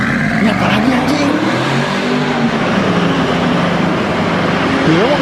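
A video game car engine revs hard and steadily for several seconds, loud and close, its pitch rising near the end, with people talking and reacting over it.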